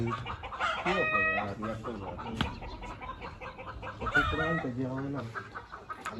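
Hens cluck and cackle in short bursts, with a rooster-like call partway through, close by over a busy farmyard background.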